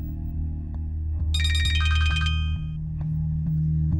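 A mobile phone ringtone plays a bright melodic chime over a steady low background hum, with no one speaking.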